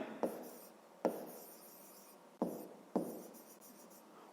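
A pen writes by hand on paper in four short scratchy strokes, each starting with a sharp onset and fading, close and quiet in an otherwise still room.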